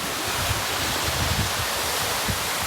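Water rushes out of a mountain stream near Mather Pass, a loud, steady broadband roar close by that continues throughout with no talk.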